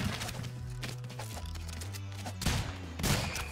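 Rapid gunfire from ROUNDS, a chaotic shooter game: a dense fusillade of quick cracking shots over pulsing game music, fairly faint, with no talk.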